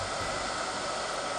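A heat gun or hot-air tool blows steadily on black potting compound coating a faulty LED board from a Maytronics pool robot, producing an even, loud broadband rush with no variation.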